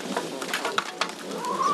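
Busy, scratchy clucking from about a dozen chickens close by in a barn, with soft rustling and scuffling underneath and no talk.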